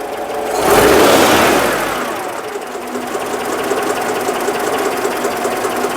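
A car engine on a HubNut project car with a hydraulic pump fault, revving up in a brief loud swell, then settling back to a steady idle.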